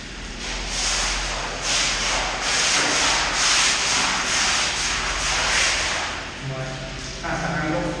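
Rhythmic scrubbing strokes rasp against the inside of a main water tank, loud and close, repeating in steady back-and-forth bursts with brief pauses.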